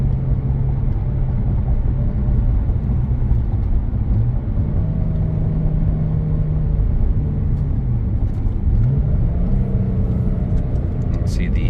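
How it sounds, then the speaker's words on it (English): A 2022 Porsche 911 Targa 4S drives along with a steady, loud engine and road rumble, its pitch stepping down through several smooth downshifts near the end. "You can see the downshifts are buttery smooth, really nice driving car."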